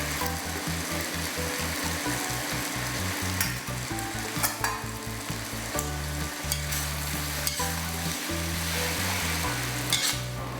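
Udon noodles with pork and spring onions stir-fried in a hot pan, a continuous loud sizzle with rhythmic scraping and tossing strokes of a utensil against the pan, close up and without voices.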